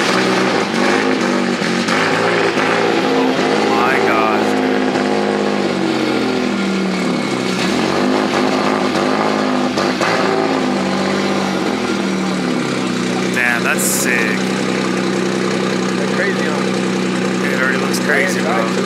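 Engines of drift cars at a Formula Drift event rumble and rev continuously nearby, pitch rising and falling, with people talking over the noise.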